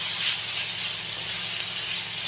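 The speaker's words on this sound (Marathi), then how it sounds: "आता या वेळेला आपण जे हिरवी मिरची, जिरे आणि लसूण, मीठ वाटलं होतं, त्याचा हा ठेचा टाकून घेणार आहे. आणि तो पण छान एकदम तेलामध्ये परतून घ्यायचा." Green chili, cumin, garlic and salt paste hitting hot oil, giving a steady, close broadband sizzle and hiss with no break and no voices.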